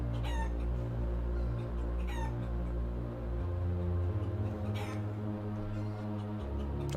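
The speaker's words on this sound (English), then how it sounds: "We're focusing a bit too much on the chickens here." Chickens clucking and a rooster crowing in a Halo Infinite machinima, several calls spread across the stretch over a steady low drone.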